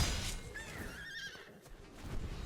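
A horse neighs in a video game, a rising, wavering whinny in the middle of the clip over a faint background, with soft hoof-like thuds around it.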